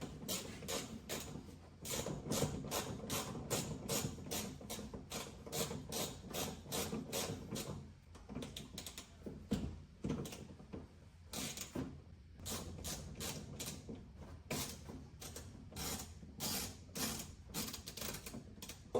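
A Nilight fog light assembly being tightened with a hand tool under a vehicle: a long run of rapid, close clicking and ratcheting strokes with brief pauses, fairly loud and steady, no voices.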